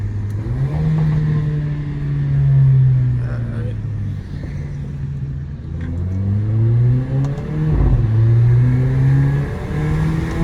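Mercedes CLA 45 with a loud aftermarket exhaust heard from inside while driving through a suburb, the engine droning and rising through repeated revs and gear changes, a voice talking over it at times.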